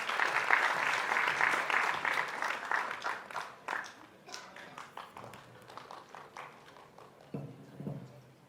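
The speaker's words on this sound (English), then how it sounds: "can we have a round of applause as well to thank Neha for joining us?" Applause from a crowd at a foundation launch event starts dense and fairly close, then thins into scattered individual claps that taper off over several seconds.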